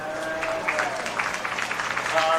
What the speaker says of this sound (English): Give your heifer exhibitors a round of applause.